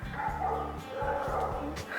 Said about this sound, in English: Now our dogs are barking.